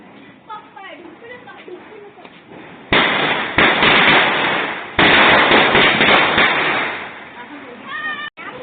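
Dense, loud crackling of a 1000 wala firecracker string bursting in rapid succession during Diwali, with voices audible before the barrage begins.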